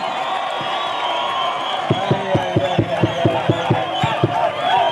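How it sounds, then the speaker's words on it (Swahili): Crowd at a Kenyan Wiper party political rally cheering for Kassim: a murmuring crowd roar that breaks into about a dozen loud, evenly spaced claps in a steady rhythm, then keeps cheering. "Wapi makofi ya Kassim wetu?"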